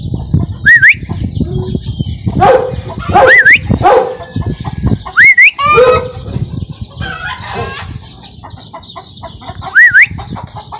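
Dogs bark in repeated sharp bursts on a farm in Riyadh, Saudi Arabia, mixed with chickens clucking and a rooster crowing, all close and loud with no talk.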